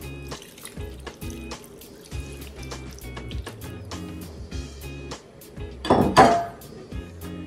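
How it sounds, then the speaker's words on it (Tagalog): Water poured into a cooking pot of simmering pork, a soft liquid splash that swells to a louder pour near the end. "Tapos lagyan natin ng tubig."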